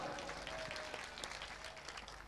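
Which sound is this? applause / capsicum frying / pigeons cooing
applause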